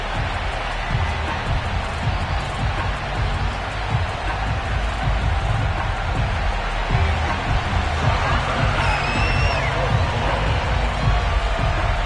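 A large stadium crowd in Buffalo in the Madden 22 video game roars and cheers steadily throughout, a dense wash of distant voices with no single speaker standing out.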